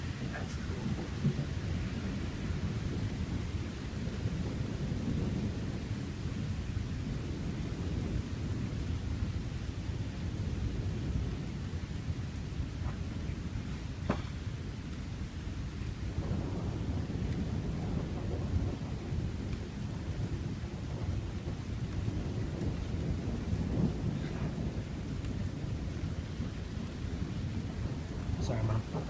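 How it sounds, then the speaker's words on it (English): Severe summer thunderstorm in Sutton, Ontario, with steady heavy rain roaring throughout and deep rolls of thunder rising under it, the downpour constant and loud from start to end. "That was one insane thunderstorm."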